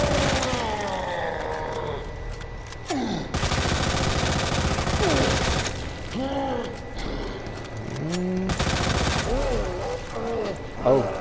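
Rapid bursts of gunfire from the Lightning Hawk weapon with infinite ammo in a video game boss fight, aimed at the boss's eye. Two long, loud volleys are broken by gaps filled with warbling creature cries and mechanical clatter.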